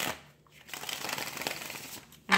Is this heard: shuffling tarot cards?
yes